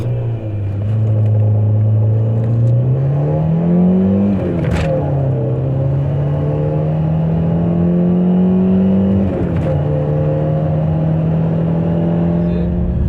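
A Peugeot 605's 2-litre, 130-horsepower, 8-valve non-catalysed petrol engine revs steadily and loudly, its pitch climbing twice and then holding at a sustained drone, close and continuous with no talking.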